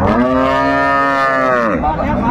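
A dairy cow at a rural livestock market in Dinajpur gives one long, loud, steady moo lasting well over a second before it drops away, close by with little talk around it.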